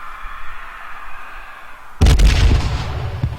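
A loud explosion bursts suddenly in the zombie survival game H1Z1, with a deep boom followed by a rumbling tail, after a stretch of quieter ambient game noise.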